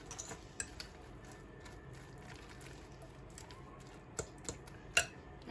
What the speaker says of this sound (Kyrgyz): Дагы аралаштырабыз.